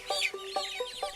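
Broiler chickens cluck in a poultry farm shed in Sangju, Korea, a close series of four or five short rhythmic clucks with rising tonal calls, clear and alone without talk.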